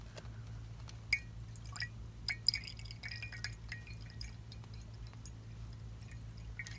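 Recycled alcohol-based pen ink drains from a container, heard as faint, scattered drips and small liquid ticks against glass over a quiet, low background hum.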